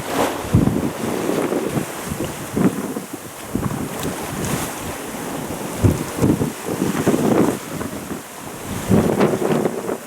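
Wind rushing over a sailing boat on the Ionian Sea off Greece in the late afternoon, loud gusty buffeting with water splashing against the hull in uneven bursts and no talk.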